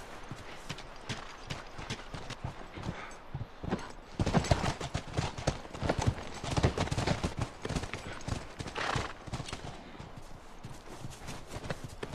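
Rapid clip-clopping hooves of a horse moving along in The Last of Us, growing louder and busier midway, with a faint whinny-like tone.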